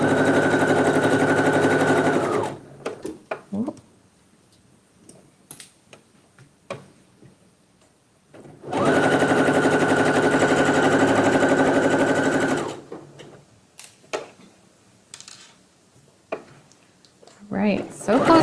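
A sewing machine stitches a slight curve on a pair of Avril pants, running in two long, steady buzzing stretches with quiet handling and a speaking voice in the pauses between.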